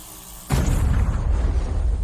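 A pipe bomb detonates in a sudden loud boom, the blast cutting in sharply after a quiet half-second of low hum and then sustaining as a heavy roaring rumble through to the end.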